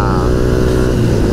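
Yamaha Y15ZR motorcycle fitted with an ESR1 exhaust and an aftermarket P44 power ECU, engine held at a loud, close, steady high rev throughout a brief burst.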